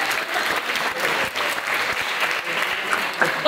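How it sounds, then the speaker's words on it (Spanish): A theatre audience breaks into loud, sustained applause, a dense wash of many hands clapping close by, with some cheers mixed in throughout. "Por favor, un aplauso."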